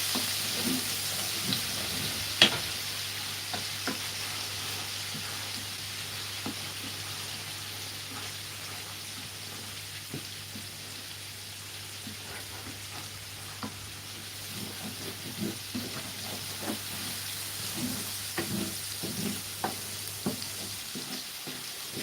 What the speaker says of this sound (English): Frying up real good.